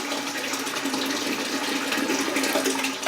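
Water drains steadily from a hot-water steam boiler, a continuous close rushing hiss with no break and no voices.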